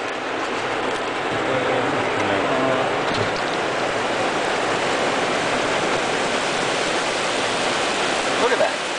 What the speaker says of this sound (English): Do you hear that noise? It's rain. It's really raining.